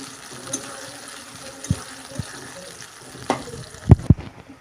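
Sliced onions frying into crisp beresta in hot oil, a low steady sizzle punctuated by a few sharp clanks and scrapes of a utensil against the pan, close by with no speech.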